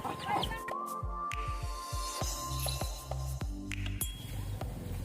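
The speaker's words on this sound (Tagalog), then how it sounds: "And we have only 4 chickens from Agusipan 4-H Club members." Chickens on a 4-H club farm give short, rapid clucks and clipped calls in a quick irregular series, close and fairly clear, with a voice speaking briefly near the start.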